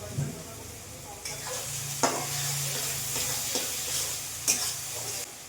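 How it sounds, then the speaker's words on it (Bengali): Spice paste with a little salt fries in a pan, its soft steady sizzle punctuated by several sharp spatula scrapes as it is stirred. "আগে মশলাটা কষিয়ে ভাজিয়ে নেবো ভালো করে। একটু লবণ দেবো, ভালো করে কষাবো।"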